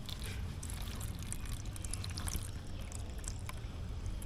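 Used, very dark engine oil pours steadily from the drain on a KTM Duke 390 engine, a continuous liquid trickle and splash held close and fairly loud with no talk.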